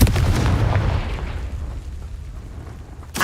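A Confringo fire spell bursts in Hogwarts Legacy, a heavy booming explosion that rumbles and fades over a few seconds before another sharp hit at the end.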